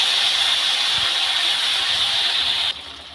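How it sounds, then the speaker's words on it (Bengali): Ginger, cumin, chili and garlic pastes sizzling in hot oil for a moong dal with rohu fish head, a steady loud close hiss that drops abruptly near the end. "মশলাগুলো দিয়ে একটু ভালো করে তেলের মধ্যে কষিয়ে নেব।"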